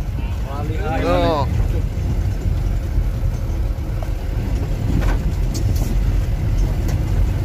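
A car rolls along a rough road toward Kaziranga, a constant loud rumble with wind buffeting and occasional knocks, while a voice speaks briefly early on.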